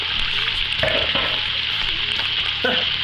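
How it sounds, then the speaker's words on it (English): Steady, loud sizzling of food frying in a pan for a lima bean vegetable stew, with a few brief clatters of a wooden spoon stirring partway through. "Oh, the sizzle is my favorite part."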